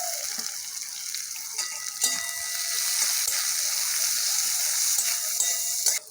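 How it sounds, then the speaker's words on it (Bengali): Chopped onion and green chilli frying in oil for a mustard-green and small-fish dish, producing a steady bright hiss with light scraping taps near the start, close and fairly even throughout. "আমার পেঁয়াজটা লাল লাল করে ভাজা হয়ে গেছে"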